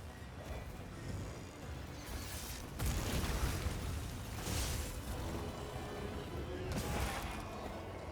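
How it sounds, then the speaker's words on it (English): Explosion pod blasts against the Arch-Tempered Rey Dau in the game Monster Hunter Wilds: heavy booming bursts near two and seven seconds over continuous battle noise and rumble. "See if I can get the explosion pod on the face."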